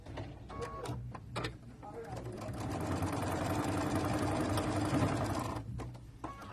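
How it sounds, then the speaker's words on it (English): A sewing machine stitches a quilt block, a close mechanical whirring run that builds and holds for a few seconds after brief starts, with a person talking around it. "I'm going to sew it from this side"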